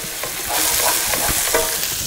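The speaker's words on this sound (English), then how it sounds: "So as we wait for the onions to brown" Onions frying in a pan give a loud, close sizzle with repeated stirring scrapes and clatter of a utensil, no talking.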